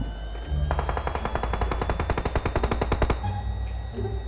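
Gunfire in a battle royale video game: a loud, rapid automatic burst of about two and a half seconds, evenly spaced sharp shots close by, then abrupt quiet with faint game ambience.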